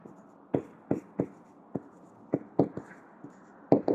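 Pen strokes scratch across paper as someone writes by hand, a series of short, close, crisp scratches in an irregular rhythm with brief pauses between them.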